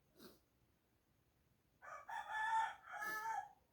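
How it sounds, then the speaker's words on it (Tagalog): A rooster crows once clearly at moderate distance, a drawn-out cock-a-doodle-doo after a brief faint cluck, in an otherwise quiet setting. "narinig niyo yung mga manok"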